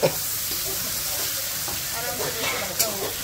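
Food fries in a pan with a steady, close hiss and sizzle, a couple of louder bumps at the start and near the end, and faint voices in the background.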